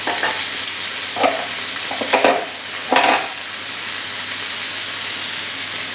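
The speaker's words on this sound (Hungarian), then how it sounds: "És közben keverünk egyet a szalonnán is." Bacon frying in a pan with a steady, close sizzle throughout, broken by a few short scraping stirs of the pan, as part of making carbonara.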